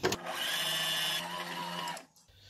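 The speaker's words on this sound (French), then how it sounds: "Allez, on lance notre pétrin" A stand mixer kneading doughnut dough, its electric motor whirring in a steady, close, high-pitched hum for about two seconds before winding down and stopping.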